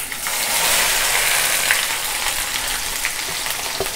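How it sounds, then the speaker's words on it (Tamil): Coconut, mustard seeds and cumin sautéing in a pan, a loud steady sizzle with occasional light pops and clicks of stirring, no one speaking. "இப்போ இந்த தேங்காய் இந்த கடுகு ஜீரகம் போட்டு இதையும் போட்டு வதக்கிக்கிறேன்."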